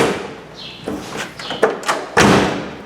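C3 Corvette door being pushed to and latched, several close thumps and clunks building to a final solid closing thud.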